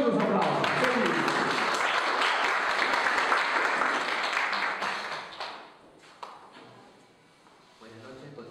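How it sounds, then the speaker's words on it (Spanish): Guests at a baptism celebration give a burst of loud, dense applause that fades out over several seconds into scattered claps and quiet room sound. "¡Fuertes aplausos!"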